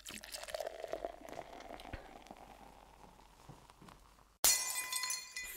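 A drinking glass tips and spills, with a sudden sharp splash and clatter near the end that follows quieter indoor room sound.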